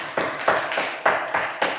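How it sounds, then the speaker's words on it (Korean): Short burst of clapping at a Friday evening church prayer meeting, a few loose, rhythmic claps spaced about a third of a second apart, fairly close and without voices. "박수 한번 칩시다"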